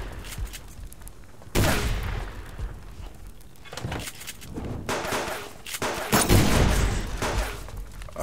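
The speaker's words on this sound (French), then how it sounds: "Ah bah encore, eh, il tire." Enemy gunfire in Metal Gear Solid 3 Subsistence co-op play, scattered loud bursts and single shots arriving in several clusters over quieter game ambience.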